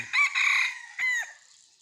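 A junglefowl rooster crows loudly and close by, a long strained call broken into two bursts with a brief gap, against an otherwise silent background.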